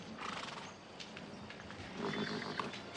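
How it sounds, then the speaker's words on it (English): Horses in a desert riding setting whinny and snort faintly, close by, over a steady outdoor background with no talking. "Those are beautiful horses."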